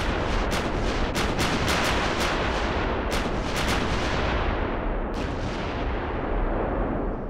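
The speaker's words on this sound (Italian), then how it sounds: "Ecco i loro cannoni in azione." World War II artillery cannons at the Battle of Ortona fire repeatedly, sharp booms landing in irregular clusters over a constant roaring rumble of battle, loud and sustained throughout.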